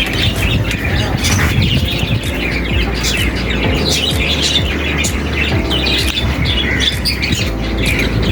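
Caged quails chirp and squawk in a dense, continuous chorus of overlapping calls, loud and close, with no talking.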